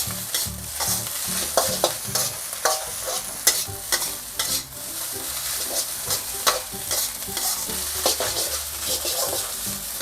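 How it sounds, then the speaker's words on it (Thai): Green onions stir-fried into fermented tofu fried rice sizzle steadily in a hot pan, with repeated rhythmic scraping and clanking of a spatula throughout, close and fairly loud, and no talking. "ใส่ต้นหอมลงไป ผัดให้ต้นหอมสุกหน่อยนะครับ"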